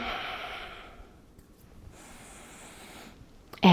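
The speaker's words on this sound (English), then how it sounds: "let's finish it up with 3 big breaths in, starting down low, reaching for the ceiling" A person exhales long and deep during a seniors' breathing workout, a soft breathy rush that fades into near quiet before another airy breath, ending in a sudden loud burst, close to the mic without speech.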